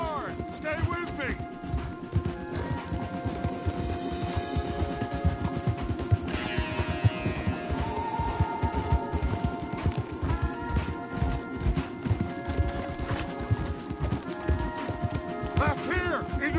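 Horses gallop hard through Red Dead Redemption 2 gameplay, a steady, dense clip-clop of hooves running the whole way under loud music and game sounds, with an occasional whinny.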